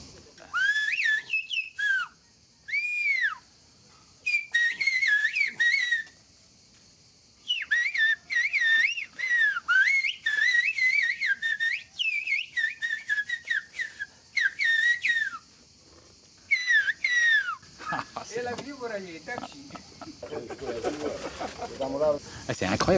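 Two Greek shepherds on the island of Evia trade a whistled-language dialogue, with shrill, sharply modulated whistles coming in bursts and pauses. Near the end, speech and other sounds take over.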